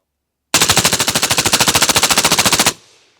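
A rifle fired at a shooting range lets off a rapid burst of about twenty-five evenly spaced shots, very loud and close, ending abruptly with a short echoing tail.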